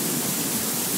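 Heavy rain pours steadily during a summer storm in Brisbane, a dense, even hiss that fills the whole moment with no breaks or voices.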